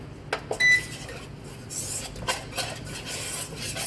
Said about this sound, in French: Je vais y ajouter ma farine. Voilà, comme ceci. Je vais mélanger